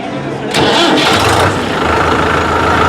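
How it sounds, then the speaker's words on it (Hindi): A Kirloskar diesel tractor engine cranks and catches, then settles into a loud, steady rumbling idle close by. "भाई आप ट्रैक्टर को स्टार्ट करके इसकी आवाज़ आपको सुनवाने की कोशिश कर रहे हैं"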